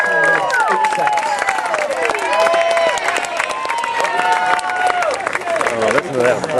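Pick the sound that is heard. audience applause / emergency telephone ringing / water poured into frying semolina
audience applause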